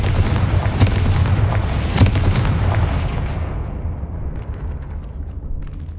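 A Confringo fire spell detonates repeatedly in a final battle in Hogwarts Legacy, loud booming blasts like artillery fire in quick succession that then fade into a decaying rumble with no talk.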